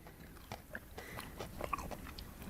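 Crunchy broccolini served with black pepper beef being bitten and chewed close up, a run of sharp crisp crunches and softer chewing sounds, quiet overall with no talking.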